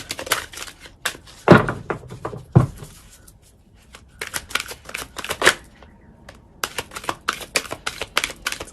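Tarot cards are shuffled and drawn close by, with sharp riffling bursts and crisp snaps, short quiet pauses between them, and a quick flurry of flicks toward the end.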